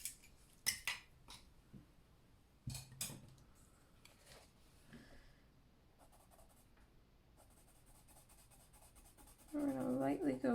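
Colored pencil strokes on paper in an adult coloring session: scattered soft scratching and tapping with some louder knocks, quiet overall, ending in a burst of louder handling noise.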